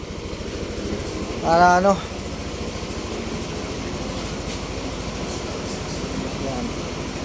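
A motorcycle engine idles steadily to warm up before an oil change, a low continuous hum throughout, with a brief spoken phrase over it near the start.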